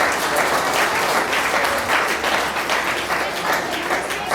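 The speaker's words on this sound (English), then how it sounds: "How about a round of applause for Pat Kelly and Dr. Steve Bang?" Loud, dense applause from an audience at a weigh-in event, a continuous wash of clapping that holds steady for several seconds without letting up.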